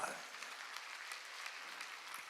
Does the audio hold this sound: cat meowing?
no